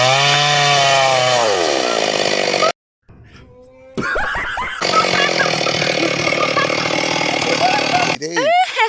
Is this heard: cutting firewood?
yes